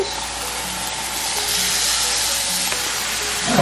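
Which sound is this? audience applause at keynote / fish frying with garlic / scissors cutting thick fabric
fish frying with garlic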